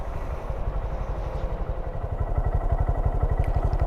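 A 2017 Honda Grom motorcycle's small engine idles with a rapid, even low putter that grows slightly louder toward the end, close by and alone.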